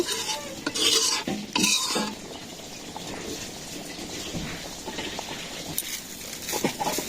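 Dal being stirred in a pot after a hot tempering of spices is added in a village kitchen, with scraping and clinking of a ladle against metal, bursts of sizzle early on, then quieter bubbling and stirring up close.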